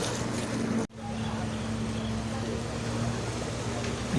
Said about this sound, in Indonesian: Mesin jet ski dihidupkan.